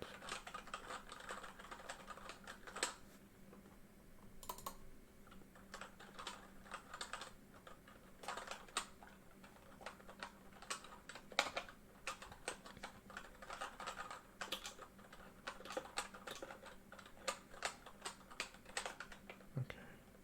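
Computer keyboard typing, near and quiet, in irregular bursts of soft clicks with short pauses, alone without talk.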